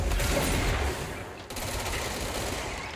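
Rapid, loud automatic gunfire in the video game Control, a continuous close fusillade with a brief dip midway before resuming.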